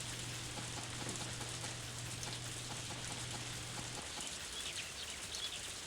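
Steady rain falls in the Harvest Moon A Wonderful Life farming video game, a continuous soft hiss of drops with a low hum beneath for most of it and faint chirps near the end.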